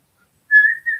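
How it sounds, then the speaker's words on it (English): A single person whistles a short, clear tune, starting after a brief silence and holding a steady, bright tone with one small break. "We're whistling where we have joy in our heart."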